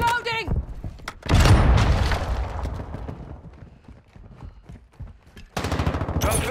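Call of Duty: Modern Warfare II gunfire comes in rapid automatic bursts and sharp shots, loud at the start and again near the end, with in-game radio voices talking between the volleys.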